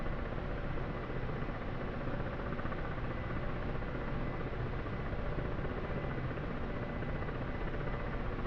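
Continuous Ka-50 Black Shark helicopter rotor and engine drone in the DCS World flight simulator, steady and even throughout with no talking.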